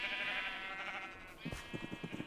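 Sheep bleating in Minecraft, a short burst of wavering bleats near the end after a sustained tonal drone, moderately close and fairly quiet, with no speech.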